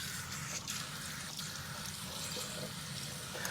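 Water runs from a bathroom sink tap and spills over onto the vanity in a cabin, a faint, steady wash of flowing water with no voices present.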